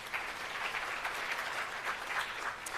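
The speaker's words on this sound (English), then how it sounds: "let's give them another big round of applause" Sustained audience applause at a launch event for technology centres of excellence, many people clapping in a continuous even wash at steady moderate volume, without talk.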